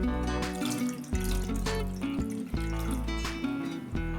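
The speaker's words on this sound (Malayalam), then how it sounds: "ഇനി ഇതിലേക്ക് 1/2 കപ്പ് വെള്ളം ചേർത്ത് കൊടുക്കാം" Half a cup of water is poured into a saucepan of chicken, a close, continuous splashing pour with gurgling fluctuations.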